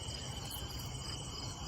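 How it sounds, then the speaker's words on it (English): Steady insect chirping, likely a cricket, outdoors at night, a continuous high trill that stays even and moderately loud the whole time with no talking. "it's like a cricket or something"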